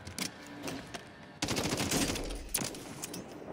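Kilo assault rifle fire in the Warzone video game comes in sharp, rapid bursts: a few short volleys, then a longer, louder string of shots, fairly close and with no talk over it.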